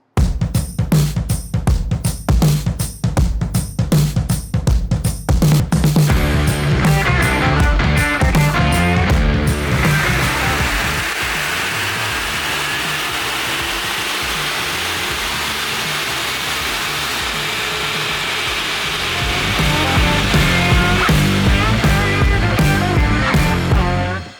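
A Chevrolet Cruze with a newly installed ported intake does a full-throttle dyno pull, its engine starting with rapid loud pulses, then rising in pitch to a sustained high-rpm roar before dropping back, all loud and close.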